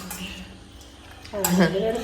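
Metal idli steamer pot handled in a home kitchen while making cake, with a few soft clinks early on, then a louder clatter and scrape of metal vessels near the end, as a voice speaks briefly.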